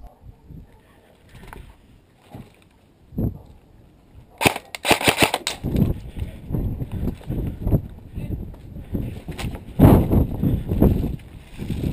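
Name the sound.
airsoft BB guns firing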